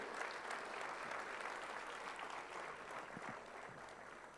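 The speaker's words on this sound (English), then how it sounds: "let's give a huge round of applause in unison" Steady, evenly sustained applause from a large conference audience in India, heard as a soft, distant wash of many hands with a few sharper individual claps near the end.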